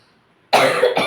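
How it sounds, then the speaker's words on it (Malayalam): A single sharp cough bursts out close by, with a second shorter cough right after, following near silence. "ചുമയാട്ടോ"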